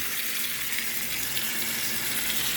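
A pan of bacon, cheese and spinach stuffed chicken breast fries over medium heat, giving a steady, close hiss of bubbling oil that holds level for the whole stretch with no voices.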